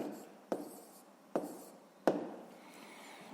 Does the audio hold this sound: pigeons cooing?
no